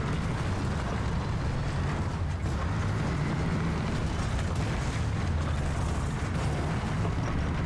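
Rocket explosion in the video game Fortnite, a heavy, continuous rumbling blast with dense low-end roar sustained across the whole stretch, loud and without pauses.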